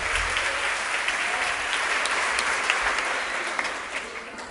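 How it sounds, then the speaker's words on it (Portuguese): A church congregation applauds loudly during a service, giving a dense, sustained wash of clapping that stays steady and fairly close before tapering slightly toward the end. "Aplauda o Senhor Jesus bem forte e fique de pé."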